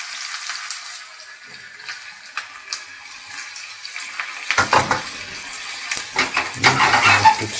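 Chopped onions tipped into hot extra virgin olive oil in a pan, giving a rising crackling sizzle that swells loud and broadband in the latter half after quieter kitchen rustling.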